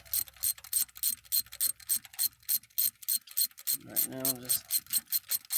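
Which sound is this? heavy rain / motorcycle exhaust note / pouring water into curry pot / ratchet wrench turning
ratchet wrench turning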